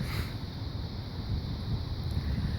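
Steady wind buffeting the microphone outdoors on a gray, mild day, a continuous low rumble at fairly even loudness with no voices.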